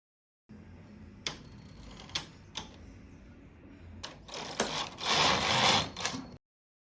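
A knitting machine works on bag panels and lining, giving a few sharp mechanical clicks followed by a louder, rushing slide of the carriage that then stops.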